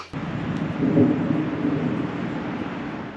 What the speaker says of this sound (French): il y a un gros orage qui nous arrive dessus